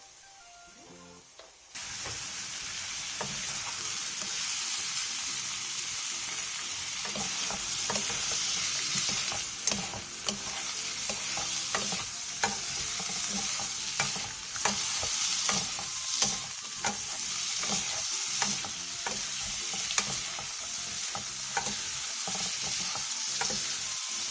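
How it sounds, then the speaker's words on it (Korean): Potatoes, carrots and a spoonful of minced garlic with salt stir-fry in oil in a pan over medium-low heat, a close, continuous sizzle with the scrape and clatter of stirring after a brief quiet start. "팬에 기름을 두르고 감자, 당근, 다진 마늘 한 스푼, 소금 반 스푼을 넣고 중약불에서 원하는 정도의 익힘으로 볶아주세요."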